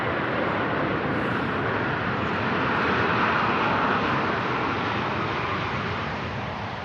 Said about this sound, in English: Nice touchdown from the heavy.